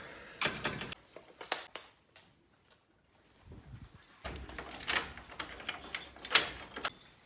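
Keys jangle and rattle in a door lock at an apartment door in Budapest. Several quiet, close metallic jingles and clicks come in short bursts, separated by near-silent pauses.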